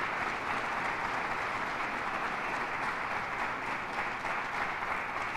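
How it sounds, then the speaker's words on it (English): Sustained, dense applause from a room of people standing to honor community members who work to disrupt violence, steady and loud throughout with no talk over it. "I want to applaud you"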